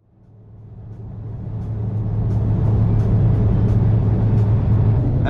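A car cruises along the A27 motorway toward Belluno, its engine and road rumble swelling from quiet to a loud, steady roar with a constant low drone.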